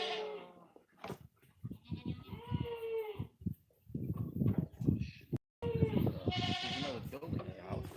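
Goats on a farm bleat repeatedly, their wavering calls close and loud, overlapping with people talking nearby.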